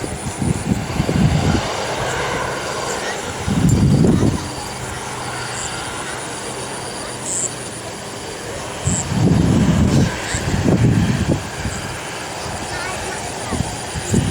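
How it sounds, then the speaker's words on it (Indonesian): A Boeing 747 landing, heard from the ground as a broad rumbling jet roar that swells in several loud surges and then eases, with people talking nearby. "Ini pesawatnya."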